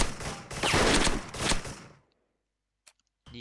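Rapid gunfire from a heavy nine-barrel gun in the online shooter Special Force, a dense, loud burst lasting about two seconds that cuts off sharply, then one brief click and a short noise near the end.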